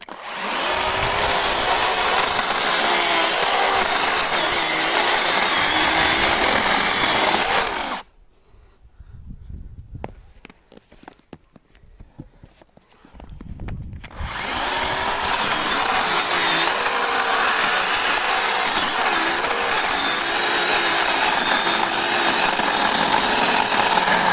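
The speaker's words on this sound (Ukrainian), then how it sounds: "така пилка підійде в самий раз. Дуже гарно пиляє" Makita DUC406Z cordless chainsaw cutting wood, loud steady whining drone that cuts off for several seconds of near quiet, then resumes at full strength to the end, with no talking.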